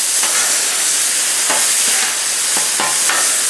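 A steak flipped on a hot Blackstone flat-top griddle gives a steady, loud frying sizzle with a broad hiss, broken by a few sharp clatters and scrapes from the spatula.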